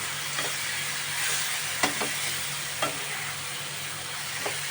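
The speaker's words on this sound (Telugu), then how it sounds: "చూడండి, ఉల్లిపాయ ఇదిగో ఇలా మగ్గాలన్నమాట." Onions frying in a pan for a Telugu onion chutney, a steady close sizzle with occasional sharp clicks of a spoon stirring against the pan, no talking.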